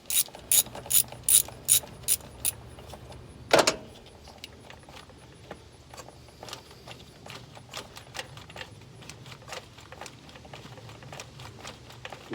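A ratchet drives a deep well socket down a bolt on a 2.8 engine top end. It opens with quick, sharp clicking bursts and a clunk, then gives lighter, steady ratcheting ticks.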